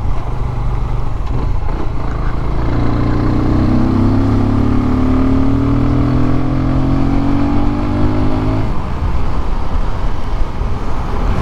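A Keeway RKF 125 motorcycle engine drones loudly and continuously, pulling up in pitch as it accelerates, with a throaty air-filter intake rumble and constant road noise while riding through town.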